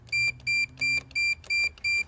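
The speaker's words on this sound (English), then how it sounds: "And if I connect it here, it beeps." A continuity tester beeps six times in a steady rhythm, each short, high electronic tone evenly spaced with brief pauses between.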